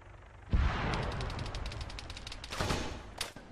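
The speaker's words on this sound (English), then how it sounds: "I heard some gunfire coming from the direction I'm facing right now" Bursts of rapid gunfire in Arma 3 crackle at a distance, a sharp thump opening the volley, then repeated shots fading and returning in clusters.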